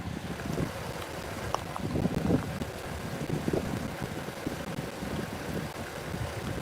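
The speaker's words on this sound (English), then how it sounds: "I'm sorry about the wind." Wind buffets the microphone in a steady low rumble with gusty surges, fairly loud and continuous, with no voices, outdoors by Norfolk Southern railway tracks at Oakdale, Tennessee.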